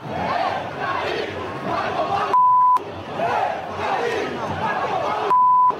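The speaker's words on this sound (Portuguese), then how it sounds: "E a primeira etapa terminou com xingamentos a Fábio Carille" Football stadium crowd chanting insults at the coach at the end of a first half, a loud, dense mass of voices roaring continuously, twice broken by a steady electronic beep.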